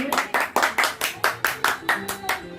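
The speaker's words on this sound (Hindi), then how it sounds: "जोरदार तालियों से उनका स्वागत करिए" An audience at a Hindi ghazal evening welcomes a performer with loud, rhythmic clapping in unison, about ten sharp, evenly spaced beats in quick succession.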